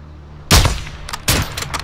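Two sharp gunshot bursts ring out in the Modern Warfare II campaign, the first near 0.5 s and the second about three quarters of a second later, each loud with a decaying tail over a low hum and no talking.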